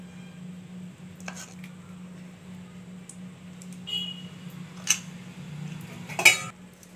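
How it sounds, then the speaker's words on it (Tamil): Paniyaram batter gets stirred in a bowl with a utensil, giving a few quiet scrapes and clinks over a low steady hum, with louder metallic taps near the end. "இப்போ மாவு கலந்து விட்டுக்கலாம்."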